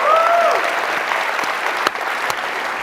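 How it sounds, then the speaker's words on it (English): A conference crowd at a crypto event gives a round of applause, with dense, steady clapping that fills the room, a few whoops near the start, and a slight fade toward the end. "Round of applause."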